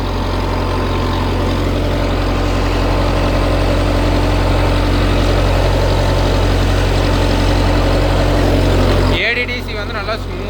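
Sonalika Tiger 75 CRDI tractor diesel engine running steadily at a set 1400 rpm, a loud continuous low drone with an even throb that cuts off abruptly near the end.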